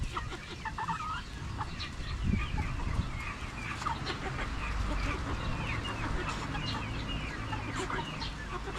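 Chickens in a backyard cluck and chatter continuously, several birds close by with overlapping calls and a few louder squawks, with no speech heard.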